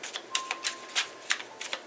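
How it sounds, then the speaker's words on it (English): Tarot cards are shuffled by hand in quick, crisp flicks and riffles, about eight sharp papery snaps in under two seconds, close and alone. "Let me go ahead and shuffle one more time."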